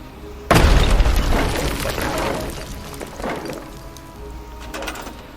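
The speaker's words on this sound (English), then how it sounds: "So what we're going to do is we're going to go ahead and bring out our trusty flamethrower again. Set it down. We're going to destroy this wall." A wall crashing apart in Fallout 76 after a flamethrower is set down, with a sudden loud breaking boom followed by crumbling, rattling debris that slowly fades, plus a smaller crash near the end.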